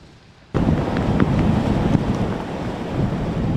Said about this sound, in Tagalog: Mabagsik ang mga alon